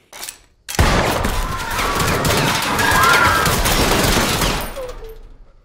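A dense, loud burst of rapid gunfire rattles continuously for about five seconds, with crashing noise mixed in, after a brief quieter lead-in.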